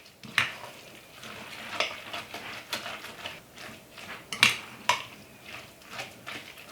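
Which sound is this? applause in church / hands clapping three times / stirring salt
stirring salt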